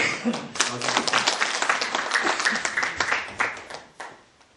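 An audience claps at a by-election candidates' debate for a city council seat, a burst of scattered hand claps that builds, holds for a few seconds, then thins out and fades with a few last claps.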